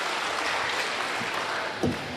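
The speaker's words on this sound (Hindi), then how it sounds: "तालियां बजा के इनका इस्तकबाल कीजिए" Audience applause at a mushaira in Lucknow, a steady broadband clatter of many hands clapping throughout, with a brief louder burst near the end.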